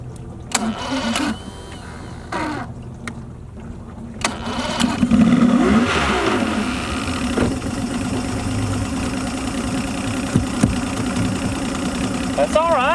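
Old outboard motor being pull-started, several short cranking bursts before it catches and runs with a rough, steady drone, voices talking over it.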